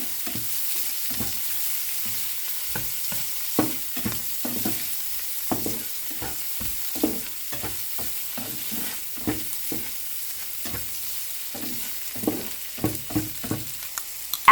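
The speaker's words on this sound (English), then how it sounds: "Now add the green peas and continue cooking for another 30 seconds." Shrimp and green peas stir-fried for Chinese fried rice, with a soft bed of sizzle broken by a steady run of spatula scrapes and clacks against the wok, close and brisk throughout.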